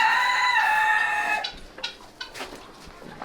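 A rooster crows loudly first, then several hens cluck in short, scattered bursts nearby.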